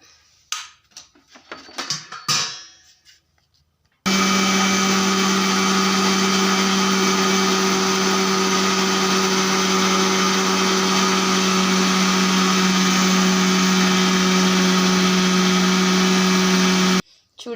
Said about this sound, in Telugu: ఇది ఇంత అయితే ఫస్ట్ మిక్సీ అయితే పట్టుకుందాం మెత్తగా మనము